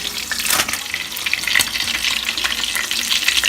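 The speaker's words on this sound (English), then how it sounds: "So we're going to let the bacon get golden brown." Bacon frying in a pan, a continuous crackling sizzle with bursts of popping spatter, close and moderately loud, with no voices over it.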